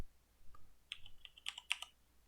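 Quiet, close keystrokes on a computer keyboard come in a short uneven run, with a brief pause and then a few sharper taps at the end, no talking.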